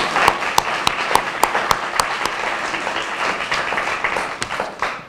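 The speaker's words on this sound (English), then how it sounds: "Y'all give them a round of applause." A crowd applauds at a governor's bill signing for a teen skin cancer prevention act in North Carolina, starting with a few distinct loud claps and swelling into steady, fairly close clapping that fades out.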